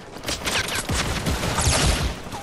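Light machine gun fire in a Fortnite match, a dense run of loud rapid bursts and overlapping shots that keeps going steadily and stays close throughout, with no talking over it.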